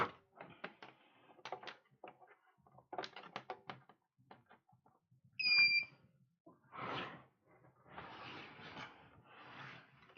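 A JGAurora A5 3D printer gives a short, loud, high-pitched electronic beep with a faint echo, standing out alone among quiet clicks, taps and rustling handling noises.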